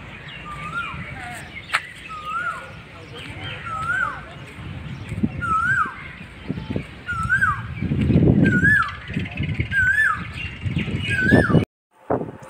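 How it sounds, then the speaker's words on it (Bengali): Riverside birds repeat a bright, rising chirp at regular intervals, joined by faint high twittering from smaller birds, while people talk and move about nearby underneath. "পাখির আওয়াজটা শুনো"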